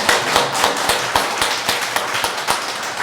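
A church congregation in Guam claps together during Sunday worship to honor fathers on Father's Day, a steady run of close, overlapping handclaps with a dense, even rhythm throughout.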